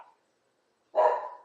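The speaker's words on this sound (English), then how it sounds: "There goes my dog barking at people again." A small Sheltie lets out a single sharp bark at people, loud and near, after a brief quiet moment.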